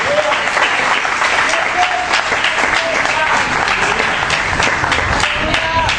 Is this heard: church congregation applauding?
yes